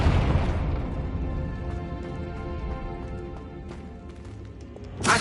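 A Confringo blasting curse bursts in Hogwarts Legacy, a loud booming blast at the start that rumbles and fades, then a second sharp burst near the end.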